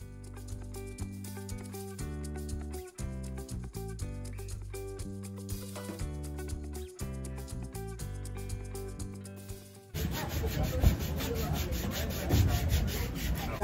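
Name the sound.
woodworking area, people working wood by hand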